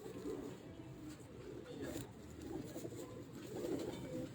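Pigeons cooing softly in a loft, low repeated burbling calls under a steady background hum, faint and a little distant.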